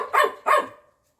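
A dog barks twice in a garden, close and clear, with two sharp barks in quick succession followed by silence.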